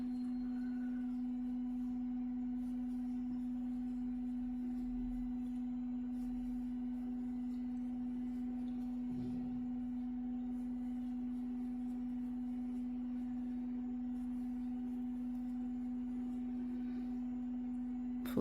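Washing machine running in the background, a steady low hum with a faint mechanical whirr, constant and quiet throughout with no voices.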